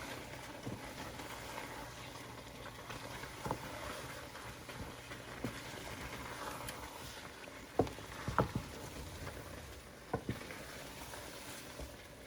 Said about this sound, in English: we're just going to stir that in slowly